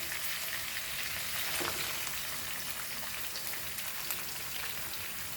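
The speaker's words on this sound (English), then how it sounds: "Now we'll add our onion into this." Onion hitting a hot pan for dal fry over a high flame, giving a steady, dense, hissing sizzle that holds evenly for several seconds with no talk.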